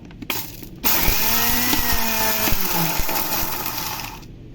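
An electric mixer grinder whirs loudly while grinding coffee, starting after a brief blip and running steadily with a rattling mechanical whine for about three seconds before stopping.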